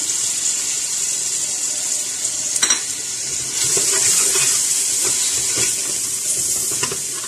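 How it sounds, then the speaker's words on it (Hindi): Water is poured into a karahi of frying tomato and spice masala for beef karahi, a steady hiss and sizzle with a brief splash and some stirring clinks, close and fairly loud throughout. "इसमें एक कप मैं पानी डालूंगी ताकि मसाला इसका बहुत अच्छी तरह से भून जाए"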